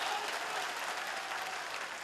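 Crowd applause at a youth convention where a politician is giving a speech, a dense, even wash of many hands clapping, moderately distant and sustained for the whole moment without pause.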